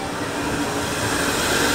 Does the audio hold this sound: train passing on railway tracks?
yes